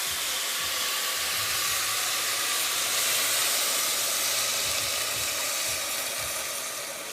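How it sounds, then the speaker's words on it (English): Stock poured into a hot pot for red coconut curry soup with chicken and noodles, giving a steady, close, airy hiss and rush of liquid that runs unbroken for several seconds and eases slightly at the end. "And we're going to go ahead and add our stock"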